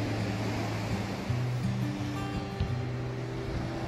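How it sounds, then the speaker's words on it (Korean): Ocean waves wash against a breakwater in Seogwipo, Jeju, a steady broad rushing surf under a low droning hum, with no talk. "파도 치는 장파제."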